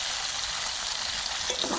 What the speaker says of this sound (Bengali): বাকিগুলো এবার ভেজে নেবো, এগুলো তুলে নিয়ে।